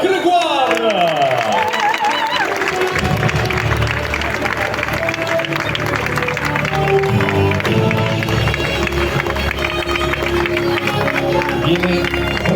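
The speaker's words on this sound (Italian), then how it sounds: "Gli applausi sono tutti per Romain Grégoire." Crowd applauding cyclist Romain Grégoire on the podium at the Veneto Classic race, steady clapping and cheering under loud continuous announcer speech and music.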